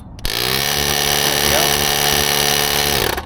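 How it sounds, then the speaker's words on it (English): A small electric tire pump motor in a multifunction jump starter whirs on abruptly and runs at a steady, loud hum with a buzzing tone, then cuts off. "you'll hear the tire pump come on"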